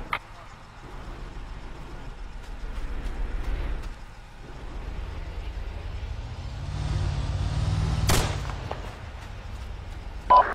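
A low rumbling drone fills the background of a video game until a single sharp gunshot cracks near the end, followed by a faint pop.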